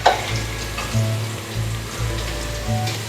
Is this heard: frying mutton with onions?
yes